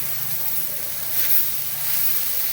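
Chopped raw onions hit a hot pan and sizzle steadily, a continuous broadband hiss that swells slightly midway while cooking kathol curry at home.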